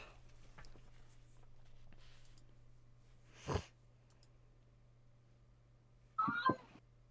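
A pet cat meows indoors, two short calls spaced a few seconds apart, the second a clearer drawn-out meow, against a quiet room with a low steady hum.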